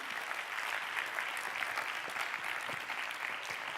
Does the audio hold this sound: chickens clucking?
no